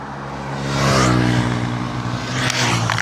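A small motorcycle engine, low on fuel, catches and revs up strongly at close range, its droning tone rising and holding with a rough mechanical edge through the few seconds.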